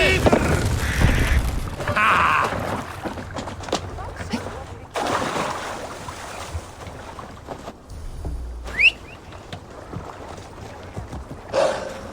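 A longship sailing in Assassin's Creed Valhalla: steady wind and water rush with creaking hull and splashing across the whole stretch, fading briefly near the middle and end, with a voice speaking at times over it.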